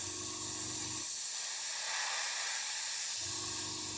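A Gaahleri GHAC-98D airbrush sprays with a steady, even hiss; a low compressor hum runs at the start and end and drops away in the middle, leaving only the airy spray.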